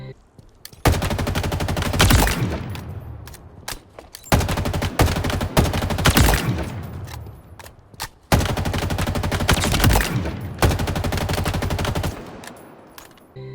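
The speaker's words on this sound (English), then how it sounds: "you got the assault rifle" Bursts of assault rifle gunfire in the video game Halo Infinite, three long loud volleys of rapid automatic shots separated by short pauses.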